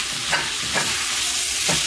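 Dense hissing sizzle of jerk chicken fried rice stir-frying, with rhythmic scraping sweeps of a spatula tossing it around a hot wok.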